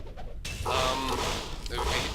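Cows mooing in the Diablo 2 cow level during a hardcore game: a few loud, close bovine moos after a brief lull, overlapping one another above a steady noisy game background.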